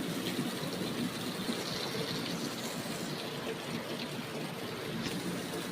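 Heavy rain in Kannur with floodwater flowing around a house, a dense, even rush of water that continues steadily at moderate distance without pause.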